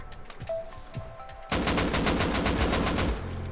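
Automatic gunfire in the survival game Rust: after a quiet stretch with a few faint shots, a loud, fast, evenly spaced burst of rifle fire rattles on for about two seconds, then stops.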